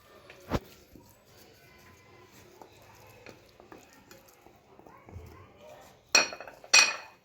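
Rice and tuna stirred in a pot, soft scrapes and a clear clink early on, then two loud metallic clatters near the end, with a voice speaking quietly in between.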